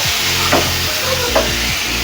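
Potato curry with spices stirred in a pan after half a glass of water is added, giving a loud steady sizzle and bubbling with two brief scraping strokes of the spoon, with no voice.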